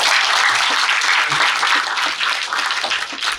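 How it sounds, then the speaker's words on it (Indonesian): An audience at a talk on leadership and capital-market careers claps steadily for a speaker, a dense sustained applause with no voices over it. "Sekali kita beri tepuk tangan untuk Pak Inarno"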